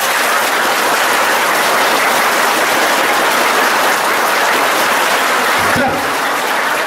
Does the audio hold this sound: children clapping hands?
yes